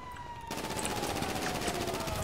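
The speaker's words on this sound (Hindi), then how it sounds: "तू मरा नहीं है क्या लेट के गोलियां मार रहा है" Rapid gunfire from the video game GTA V erupts after a quiet start, a dense rattling burst of shots continuing loudly to the end.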